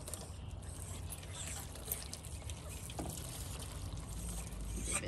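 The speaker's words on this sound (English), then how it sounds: "Giving the chickens some water." Water pours for backyard chickens, a soft steady trickle and splash, faint and continuous over a low outdoor rumble, with no voices.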